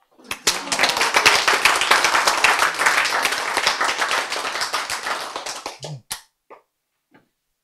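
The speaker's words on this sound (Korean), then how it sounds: "박수." An audience at a Korean health lecture breaks into brisk applause, close and crisp, building quickly and holding for about five seconds before stopping abruptly, followed by a few scattered last claps and near silence.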